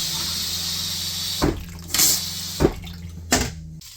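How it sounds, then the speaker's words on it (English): A camper's freshwater tank drains with a steady hiss of running water, broken by four louder splashing or clunking bursts at irregular intervals, close by with no voices. "So while my freshwater tank drains over there"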